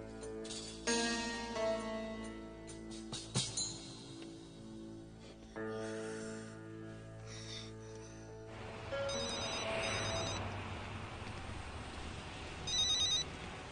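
A telephone rings repeatedly in a domestic drama scene while a call is placed, with the ringing tones sounding over background music and no speech.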